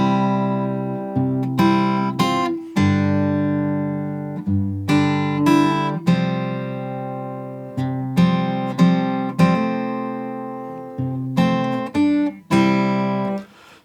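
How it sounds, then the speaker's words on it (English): Finger-picked acoustic guitar playing the opening verse of a song, with clear plucked notes and chords ringing over a steady, gently repeating pattern, close and solo with no voices. "the song starts with the first verse, and we're going to do a simple finger picking idea"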